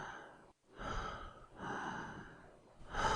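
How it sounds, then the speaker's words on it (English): Heavy, ragged breathing close up, with slow rasping inhales and exhales repeating in a steady rhythm. "I can hear you breathing."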